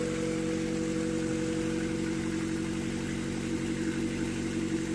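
Honda Civic with a B20B engine idling steadily after a valve adjustment, a smooth, even low hum with a constant rhythm that runs close and unbroken throughout, with no talk.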